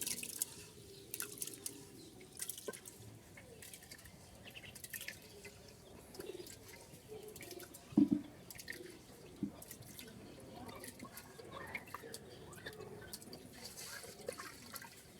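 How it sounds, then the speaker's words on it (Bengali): Rice is rubbed and rinsed by hand in water for a village-style khichuri. Faint, scattered drips and soft splashes sound against a quiet background. "আমরা একটু ভালো করে কষলে কষলে ধুয়ে নেব, যাতে চাউলের গায়ে কোনো ছেঁচা না ভরে থাকে।"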